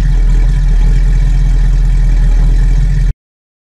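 A 1966 Ford Mustang fitted with a 5.8-litre Windsor V8 of 351 cubic inches runs with a loud, steady, deep low rumble for about three seconds, then cuts off abruptly.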